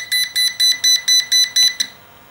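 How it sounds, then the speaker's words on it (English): WLToys V636 quadcopter transmitter beeping in a steady series of about eight short, shrill, evenly spaced electronic beeps, loud and close, then stopping. "Transmitter will beep until you actually perform the flip."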